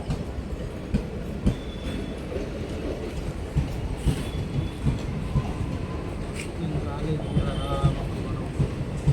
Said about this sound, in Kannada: ಅಯ್ಯೋ, ಟ್ರೈನ್ ಹೋಯ್ತೈತಾ?